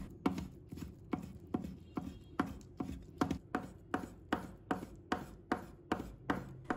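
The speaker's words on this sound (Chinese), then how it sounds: "再切成小粒。" A knife dices soaked dried shiitake mushrooms on a cutting board in steady, evenly spaced chops, about fourteen crisp close strikes in a row with nothing else heard.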